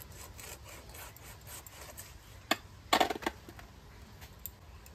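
A blade cuts through a soft hilsa fish with roe, making close rubbing, sawing strokes with a short cluster of sharper scrapes near the middle.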